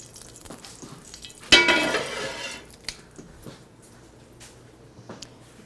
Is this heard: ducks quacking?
no